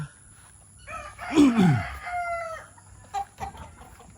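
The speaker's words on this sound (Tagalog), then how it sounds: "punta tayo dito sa mga manok" Farmyard chickens, about to be fed banana peels, cluck and give a short crowing call, with a few sharp clucks afterward, fairly close but not loud.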